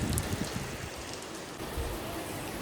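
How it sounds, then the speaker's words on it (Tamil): Heavy rain pours steadily during a downpour before a wedding, a dense continuous hiss of drops drumming on surfaces with no voices heard. "மழை பார்த்தீங்களா"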